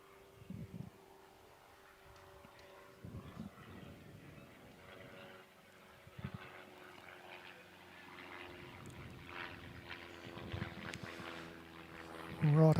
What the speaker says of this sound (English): Right over the road from an airport here, so you will hear the odd plane go over.